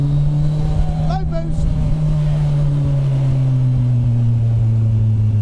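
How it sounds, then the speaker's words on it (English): Loud, steady engine drone from inside a moving MK Indy kit car powered by a turbocharged Hayabusa motorcycle engine on low boost, with a rising and falling pitch and a short voice near the start. "it's a bit noisy being a bike engine"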